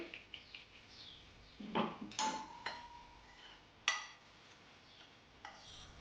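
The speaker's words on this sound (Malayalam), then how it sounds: "നല്ലപോലെ മിക്സ് ചെയ്യാം" Vanilla sponge cake batter being stirred by hand in a bowl, with light irregular clinks and scrapes of a utensil against the bowl, soft and close, with a few sharper taps scattered through.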